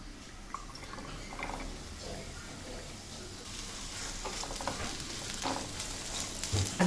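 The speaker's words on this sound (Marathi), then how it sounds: "कांदा चांगला भाजून घ्यायचा आहे." Chopped onion fries in oil for chole masala, a continuous moderate sizzle with soft crackles and occasional stirring scrapes throughout.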